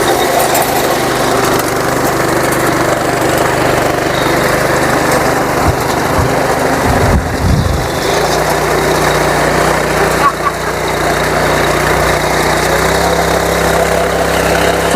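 Wheat reaper machine running in first gear in a field, a steady close engine chug that drops in pitch and eases partway through, with speech over it.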